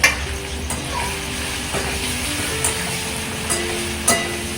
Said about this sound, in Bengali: এবার এই সবজিগুলো অল্প করে আমরা কড়াইতে ছেড়ে দিলাম।